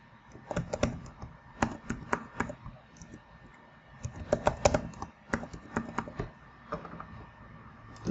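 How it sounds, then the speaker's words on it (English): Typing on a computer keyboard to enter a new password, quick irregular bursts of clicky keystrokes with short pauses, close and alone with no talk. "New password I am entering."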